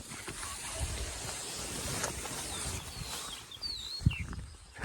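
Wind gusts across an outdoor microphone at a campsite by a tent, a steady rumbling rush, with faint bird chirps in the background and a bump at the end.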